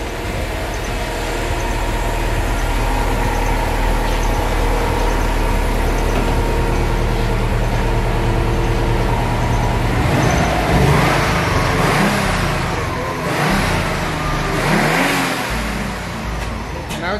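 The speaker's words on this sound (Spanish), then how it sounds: "Acelérale para que veas." A car fitted with a dump pipe idles with a low, steady engine rumble, then accelerates into loud revving surges toward the end, close to the listener.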